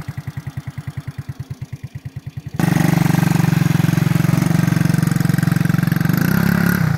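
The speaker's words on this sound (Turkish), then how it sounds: "Arkadaşlar şimdi şu yokuşu çıkmaya çalışacağız bu motorla." An unmodified stock motorcycle idles with a steady rhythmic putter, then revs sharply into a loud, sustained engine roar as it attempts to climb a snowy hill, staying strong and close to the end.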